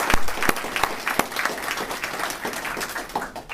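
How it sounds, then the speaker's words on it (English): Applause from an audience at a defense disability awards ceremony, honoring Old Guard soldiers after the national anthem; dense clapping with sharp individual claps, starting strong and gradually tapering off. "So just give a round of applause for"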